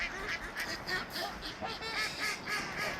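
Ducks quack repeatedly at a partly frozen lake in a park in Shakopee, Minnesota, a dense overlapping chorus of honking calls from a nearby flock, fairly quiet and continuous.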